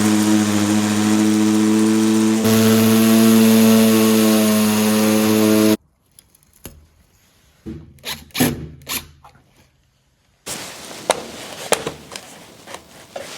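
An electric drill runs continuously with a loud, steady motor whine that shifts pitch once, then cuts off, followed by scattered handling knocks and rubbing, then a short rougher burst of work noise.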